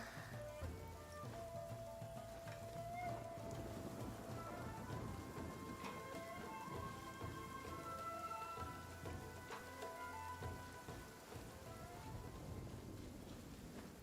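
Rain pattering steadily with rumbling thunder in the game Genshin Impact during a lightning storm, a continuous wet wash with low rolls underneath, quiet and even for the whole stretch, with faint game music and no talk.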